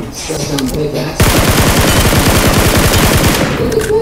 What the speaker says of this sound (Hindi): ये तो तीन चार बंदे गोलियां मार रहे